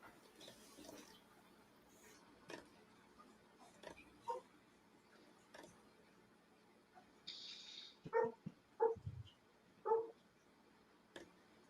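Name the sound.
dog barking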